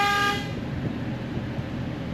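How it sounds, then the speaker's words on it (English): A car horn commanded through the body control module gives one short, raspy toot before fading into low idling vehicle background. "horn doesn't sound that great, it's a little raspy."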